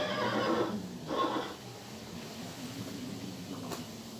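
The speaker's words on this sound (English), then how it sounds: "Can you hear the horse?" A recorded horse neighs and whinnies in a couple of loud, quavering bursts near the start, played back in a classroom lesson on animal sounds, followed by quieter room tone.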